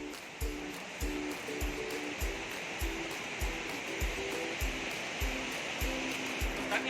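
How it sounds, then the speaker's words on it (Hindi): The Bhagirathi river at Devprayag rushes below a suspension bridge in a steady, loud roar, with repeated low thumps running through it. "नीचे भागीरथी नदी"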